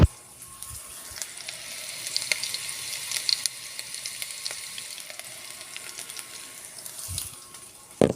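Garlic, ginger and onion sautéing in a pan, a steady close sizzle and crackle with small clinks and stirring scrapes throughout, no voices.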